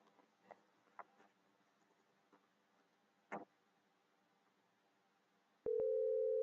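A telephone busy signal tone comes in abruptly near the end and stays loud and steady, following a few faint clicks and a quiet burst of recorded voice.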